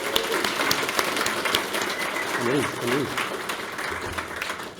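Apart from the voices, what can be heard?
audience applause for guest speaker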